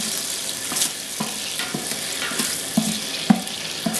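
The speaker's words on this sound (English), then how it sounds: "This is when I'll begin using my paint stick." Melting butter stirred with a wooden paint stick while mixing a popcorn and cherry Kool-Aid bear bait, a soft continuous sizzle with irregular scraping strokes and occasional knocks against the pot, close by with no talking.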